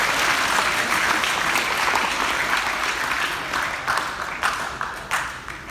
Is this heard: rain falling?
no